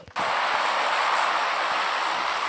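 Airplane engine drone in the video game PUBG, a loud, steady broadband roar that starts abruptly and holds evenly throughout, with no voices over it.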